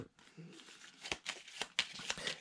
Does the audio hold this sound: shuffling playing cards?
yes